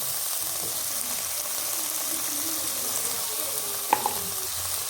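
Vegetables sautéing with salt and turmeric for a spinach kadayal, a steady low sizzle and frying hiss throughout, with a brief sharp clink of a utensil near the end; no talking.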